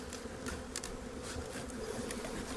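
Honey bees in an opened hive, busy sealing it with thick propolis for winter, hum as a continuous low drone. The sound is close and faint, and a few louder buzzes pass near.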